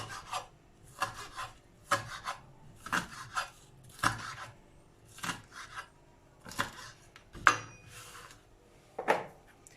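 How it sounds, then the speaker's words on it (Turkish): Knife finely chopping asphodel (çirişotu) greens on a board for yogurt soup, a steady series of rhythmic close-up cutting strokes with soft scraping, no talking. "Çorba için minik minik doğruyorum."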